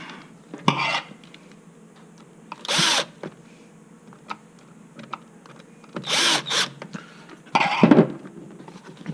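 A power drill drives screws during a battery connection replacement, several short whirring bursts of about a second each separated by quiet gaps with small clicks and handling noises, close by.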